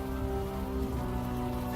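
Steady rain falling in the Unavowed video game, a dense continuous hiss over a low steady hum, even and unbroken throughout.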